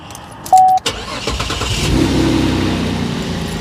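A Holden Commodore with high kilometers is started with the key: a brief chime, the starter cranking, then the engine catching and settling into a loud, steady idle close by.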